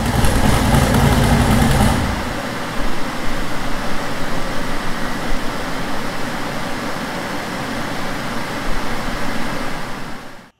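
LS V8-swapped Subaru WRX on a dyno, loud and close at first, then settling to a steadier, quieter running drone with occasional surges before cutting off at the end.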